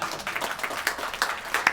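A handful of scattered hand claps from people at a software demo session, sparse and fairly soft, with a couple of sharper single claps near the end over low background noise.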